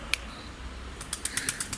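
Young pigeons take flight, their wings beating in short, quick bursts of flapping, one near the start and a rapid flurry in the last second, fairly faint against quiet outdoor air.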